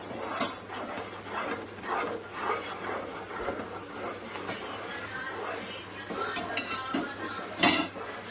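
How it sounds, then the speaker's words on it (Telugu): A thick Mysore pak mixture of ghee and sugar is stirred steadily in a pan on the stove. Repeated soft scraping and metallic clinks of the spoon against the pan come through close up, with light kitchen background noise. "అడగంటకుండా బాగా కలుపుకుంటూ ఉండాలి."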